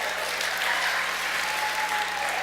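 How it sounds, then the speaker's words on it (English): A church congregation claps together during a relationships sermon, a dense, even burst of applause holding steady at full strength throughout. "let's clap for that one"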